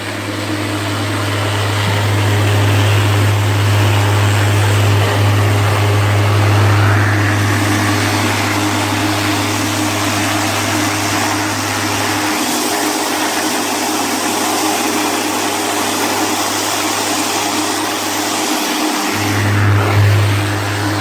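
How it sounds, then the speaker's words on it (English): A homemade vibration tumbler built from an orbital sander, hanging on string outdoors, giving a loud steady motor hum and buzz that runs almost continuously and briefly drops out near the end. "Now I'll show you the video of me using the tumbler."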